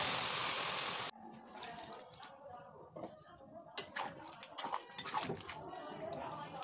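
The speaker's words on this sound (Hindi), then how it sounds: "अब इसमें हम पानी रखेंगे" Water poured into a cooking pot while boiling raw bananas at home, a steady rushing pour for about a second followed by softer splashes and clinks of the pot.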